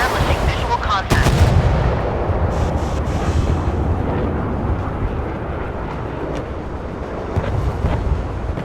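Heavy naval cannon fire in a warship combat game, a sharp blast near one second followed by sustained rumbling battle noise and booming shots throughout, loud and dense.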